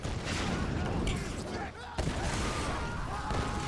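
Rapid gunfire from shooting fire in Tomb Raider (2013), a dense continuous volley of shots with a brief dip midway, under a talking voice.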